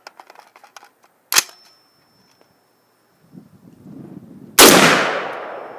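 A suppressed Adams Arms small-frame .308 piston-driven rifle fires a Chinese copper-washed round outdoors: faint clicks, one sharp crack, then a loud close report that decays over a second.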